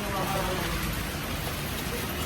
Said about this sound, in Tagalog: Ang lakas ng ulan dito sa Japan.